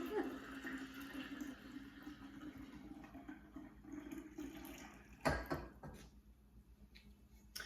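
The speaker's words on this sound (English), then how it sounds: "we're gonna pour our concentrate in here" Sweet tea concentrate is poured into a pitcher with a soft liquid splashing and gurgle, a louder splash near the end, while a quiet voice talks faintly beneath.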